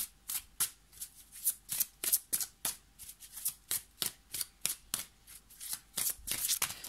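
Tarot cards are shuffled in a quick, rhythmic series of crisp riffling bursts for a card reading, close and steady with no talking.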